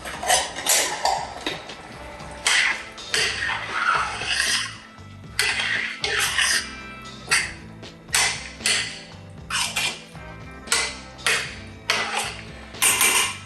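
Tomato sauce boils in a pot and is stirred with a utensil, giving repeated loud metallic clanks and scrapes against the pot in irregular bursts.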